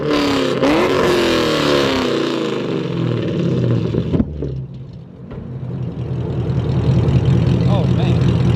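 A 5th generation Camaro fitted with aftermarket headers revs loudly nearby, its engine note rising and falling over several seconds and then holding at a steady loud drone.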